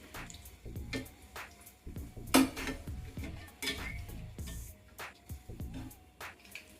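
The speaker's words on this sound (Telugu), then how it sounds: "ఇప్పుడు ఒక సైడ్ వేగాక మెల్లగా వీటిని తిప్పేసుకోవాలి." Aloo bondas are turned in a frying pan of hot oil with a metal utensil, giving soft scraping clinks and taps against the pan over a faint bubbling sizzle, close and quiet, with no voices.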